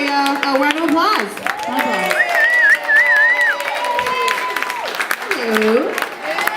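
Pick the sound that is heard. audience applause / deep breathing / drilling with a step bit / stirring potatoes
audience applause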